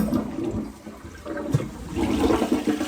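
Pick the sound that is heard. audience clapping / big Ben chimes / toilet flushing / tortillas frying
toilet flushing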